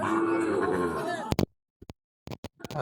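Sahiwal cattle at a cattle market give a low, drawn-out moo up close, followed by short scattered thumps and noises, with people talking around them.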